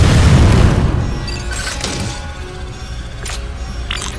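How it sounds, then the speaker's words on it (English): An explosion from blasting the eruption port in the Metroid Other M video game opens with a loud low boom that decays into rumbling debris, followed by a few scattered sharp cracks. "Samus, blast the eruption port to get the magma flowing"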